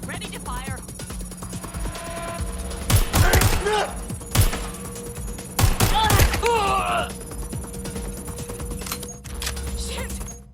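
Gunfire in the video game Watch Dogs Legion, during the prologue: several sharp, loud shots and short bursts go off between about three and seven seconds, over a steady background hum with voices talking.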